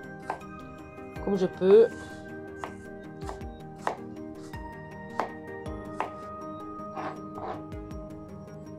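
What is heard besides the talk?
knife chopping apple into small pieces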